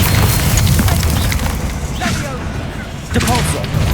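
Descendo spell in Hogwarts Legacy slamming a target down, a loud booming impact with crackling debris, followed by a second burst near the end amid dense game noise and some voice.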